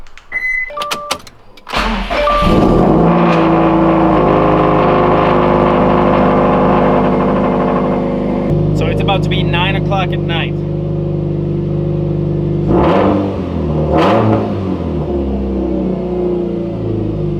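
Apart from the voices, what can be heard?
Subaru car engine starting and revving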